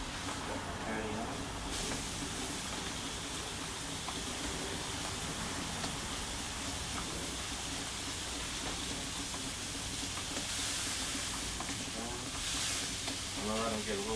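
A burger patty fries in bacon grease on a Blackstone griddle, a constant dense sizzle that runs from start to finish, close up and loud.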